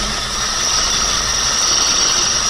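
A Chevrolet engine idles with a loud metallic timing chain rattle, giving a constant, harsh, close-up clatter and hum that never lets up.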